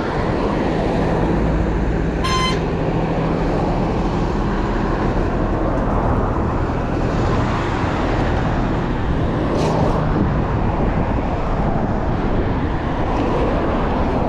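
Busy road traffic with many vehicles passes in a continuous, dense roar of engines and tyres over a long stretch. A brief horn-like tone cuts through the wash, and no one speaks.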